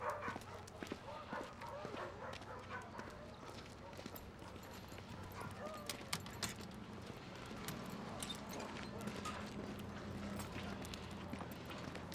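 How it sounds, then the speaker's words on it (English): A dog barks in a few short yips amid a busy outdoor scene in a TV drama, with clopping hoofbeats and people talking over it. "Hey, that's a beautiful dog."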